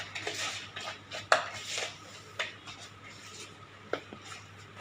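Spoon scraping and stirring rava idli batter with curd in a bowl, giving soft repeated rasping strokes with a few sharper clinks against the bowl, close and fairly quiet.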